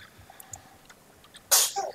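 A single sharp human sneeze, fairly close and loud, bursting out near the end over quiet background hum during a Warzone game session.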